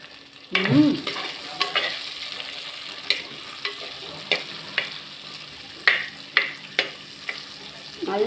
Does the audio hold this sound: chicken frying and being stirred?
yes